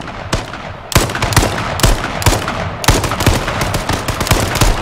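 Rapid bursts of loud video game gunfire crackle almost without pause, with repeated automatic volleys and sharp individual shots close up.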